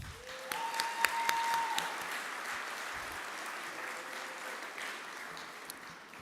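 Audience applause at a city's State of the City address honoring a school board president: a moderate, fairly distant crowd clapping evenly, with a brief faint tone near the start.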